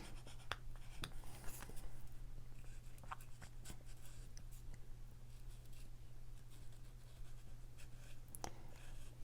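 Faint scratching of a pen outlining shapes on a watercolor paper card, soft irregular strokes with occasional taps over a steady low hum.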